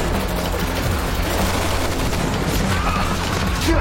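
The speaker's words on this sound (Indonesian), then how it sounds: "Mereka bertiga menyerang markas Shake dan ternyata mereka telah dikepung kawanan polisi suruhan Alan dan terjadilah baku tembak." A film gunfight in which police surround a hideout, with dense continuous gunfire and rapid overlapping shots under a loud, constant battle roar.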